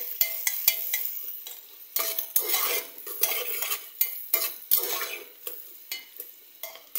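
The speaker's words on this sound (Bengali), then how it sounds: "শুধু তেজপাতাটাই তেলে দিয়ে দিলাম" Bay leaf dropped into hot oil for a soy-sauce beef curry, giving a close, steady sizzle broken by sharp clinks and scrapes of a utensil against the pan, with no talk.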